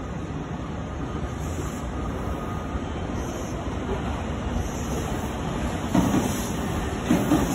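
A Meitetsu train pulls into a station in Japan, giving a steady, loud rumble of rolling wheels and rail noise with faint clicks of the wheels over the joints.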